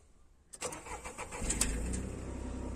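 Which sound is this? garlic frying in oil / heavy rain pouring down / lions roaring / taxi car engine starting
taxi car engine starting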